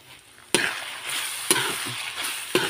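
Ground pork sautéing in a pan for Filipino giniling with tomato sauce: a steady close sizzle broken by three sharp knocks of a spatula stirring against the pan at roughly one-second intervals.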